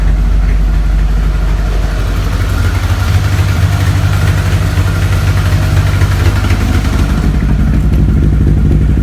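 A 1983 VW Rabbit GTI engine runs at its first fire-up, holding a loud, steady, close idle with a rough low rumble and mechanical clatter throughout, with no talking.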